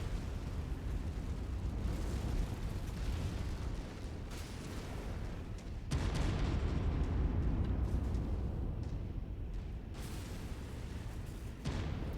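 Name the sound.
gas pipe exploding in video game Mechwarrior 5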